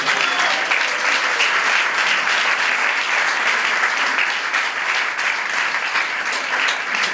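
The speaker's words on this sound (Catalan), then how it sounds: "Fa un aplaudiment encara." An audience claps in sustained, dense applause, steady and loud for several seconds without a break, with no voices standing out.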